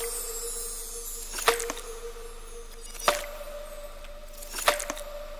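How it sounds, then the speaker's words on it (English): Electronic drum line from a colour bass track: sparse, sharp snare-like hits land at wide, even intervals over a soft sustained tonal bed, each strike crisp and upfront with no voices. "The drum line in itself sounds like this."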